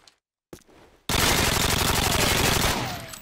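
Vector submachine gun firing in a video game: after a brief click and short rustle, a loud, sustained full-auto burst of rapid, evenly spaced shots roars close up for about two seconds before tailing off.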